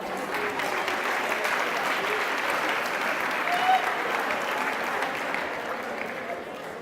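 An audience at a digital citizenship and literacy event breaks into sustained applause, a dense, even wash of clapping from many hands that holds steady throughout.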